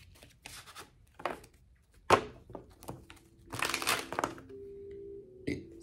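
Tarot cards being shuffled and pulled, giving scattered crisp snaps, rubs and crinkling card sounds close by, with one sharper crack and a busier shuffling stretch near the end.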